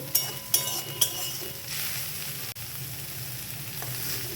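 Banana stem fries uncovered in a pan on a medium flame, giving a steady sizzle close up; it opens with three quick clinks of a utensil, and there is no speech.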